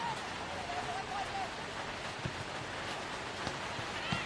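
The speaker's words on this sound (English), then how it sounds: "you can see it on our cameras just how hard the rain is actually falling" Heavy rain pours steadily on a football pitch during an NSW women's league match, a constant dense hiss with occasional faint thuds, and a commentator's voice is faintly audible early on.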